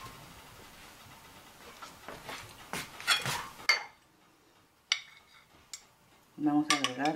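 Noodle salad with mayonnaise, tuna and celery being stirred in a bowl, giving scraping, clinking utensil sounds against the dish for a few seconds before quieter gaps and a short burst at the end.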